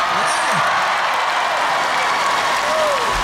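Dense, continuous applause from a large concert crowd in the Taipei Arena, a broad wash of clapping and cheering that holds steady throughout with brief voices rising faintly within it.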